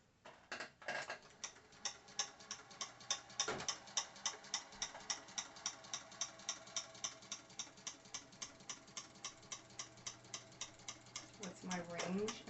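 A vintage Singer 201K sewing machine quilts on a small quilt frame, giving a steady, close mechanical ticking of evenly spaced stitches that runs for about twelve seconds at a quiet level.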